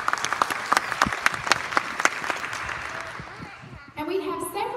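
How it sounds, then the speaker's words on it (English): An audience at a graduation ceremony claps together, a dense patter of applause that gradually fades out before a voice and faint music take over at the end. "So if you'll give them a round of applause"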